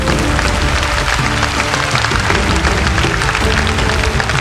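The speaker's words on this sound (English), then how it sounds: "Please give a big round of applause with huge shouts." Large crowd applauding at an Atomy Imperial Master promotion ceremony on stage, a dense continuous wash of clapping that stays loud and even throughout, with no talk over it.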